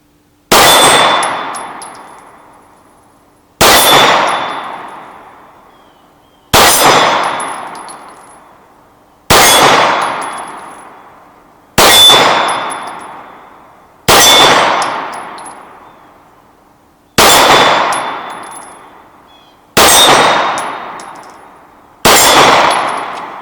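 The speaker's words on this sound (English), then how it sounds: "Let's try the big gong a few times." Nine loud clanging hits on a big steel gong struck by 9mm shots from a Nighthawk Custom Trooper pistol at 50 yards, each ring decaying slowly before the next, spaced a few seconds apart.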